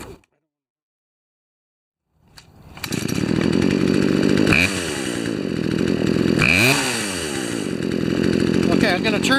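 A Poulan chainsaw fitted with a new Zama carburetor is pulled into life after a brief silence and runs loudly close by, holding a high buzzing idle with two throttle surges that rise and fall in pitch.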